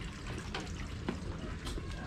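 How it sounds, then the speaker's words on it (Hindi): Water runs steadily at Itsukushima Shrine on Miyajima, a soft continuous splashing flow that stays faint and close throughout. "अच्छा ये भी पानी चल रहा है।"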